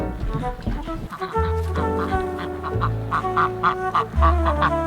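Ducks quack and chatter nearby in a garden in a busy, overlapping series of calls over a low background rumble.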